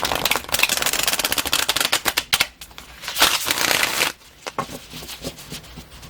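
Tarot cards with a stiff snap being shuffled up close, bursts of rapid crisp riffling and flapping, then softer scattered card slides and taps.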